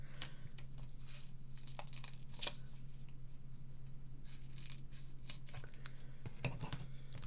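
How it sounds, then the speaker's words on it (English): Scissors snip through paper to cut pieces in half, giving a quiet, close series of irregular crisp cuts and crinkles over a low steady hum. "So I'm going to grab my scissors because I need to cut a few in half."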